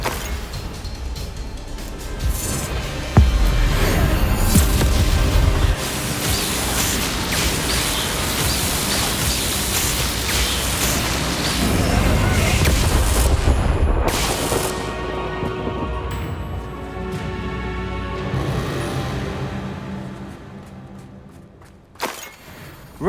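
Fiery Confringo spell blasts and booming explosions roar through a battle in Hogwarts Legacy, with a thick continuous rumble and crackle that swells and falls before cutting sharply near the end.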